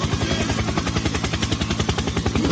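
A helicopter sound effect played during a live show, a loud, steady rapid rotor chop with rhythmic thumping pulses throughout, close and continuous with no talking over it.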